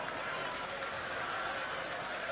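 A restless rugby crowd murmurs at an Australia versus England international in Australia, a steady broad rumble of many voices with no distinct cheers or claps, held at an even level throughout.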